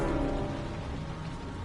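Steady rain falling in a video game scene, a dense even wash of patter close around, with no talk over it.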